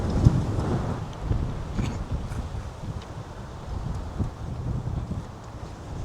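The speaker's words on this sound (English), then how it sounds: "Ooh, it's a windy day." Wind blowing on a windy day outdoors beside a street, a steady broadband rush with low buffeting gusts on the microphone, loud and continuous with no voices.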